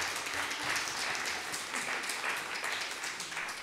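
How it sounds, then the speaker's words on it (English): Church congregation at a Baptist service applauding, a steady room-filling patter of many hands clapping at moderate distance. "Let us applaud him."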